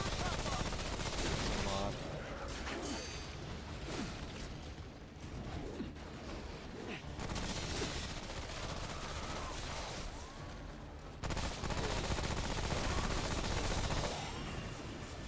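Dense rapid gunfire from the video game Remnant: From The Ashes, loud bursts of shots and explosive impacts rolling almost continuously with brief lulls, while a voice talks over the action.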